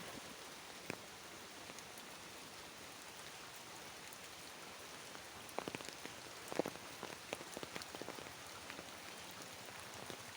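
Steady rain falls on surfaces, a soft even hiss with scattered sharper drops and drips, fairly quiet and with no voices.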